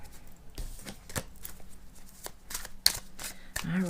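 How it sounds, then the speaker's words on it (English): Tarot cards being shuffled by hand, a quiet, continuous riffling and patter with sharp flicks and slaps throughout, no voices over it. "that's just crazy shuffling there"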